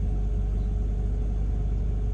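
A tuned R33 Skyline with a forged engine rumbles steadily as it drives up, giving a deep, constant engine note close by without any talk.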